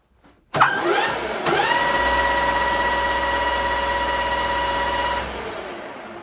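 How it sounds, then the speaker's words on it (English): A race engine on a dyno starts with a sharp crank and catch, then holds a loud, steady fast idle around 1,200 rpm with a rough, throbbing exhaust note before shutting off. "So this is your fast idle in the pits."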